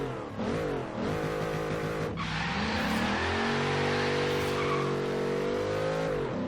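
A Ford Crown Victoria accelerating hard from a standstill in Forza Horizon 3, its engine revving up through the gears with a brief tire chirp and rising, continuous roar, loud and close, without talk.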